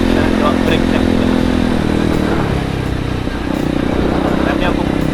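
A Kawasaki KLX 230 motorcycle runs close by during a brake check, its engine a steady, loud drone that eases briefly in the middle, with light mechanical clatter on top.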